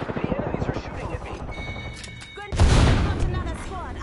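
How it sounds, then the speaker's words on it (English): Enemy gunfire in the online shooter Apex Legends breaks out as a loud, dense burst of shots and booms, preceded by a game voice speaking over rhythmic thumping. "The enemies are shooting at me"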